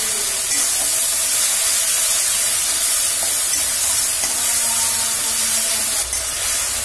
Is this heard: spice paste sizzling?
yes